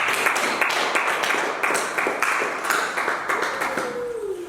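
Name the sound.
congregation clapping and cheering for God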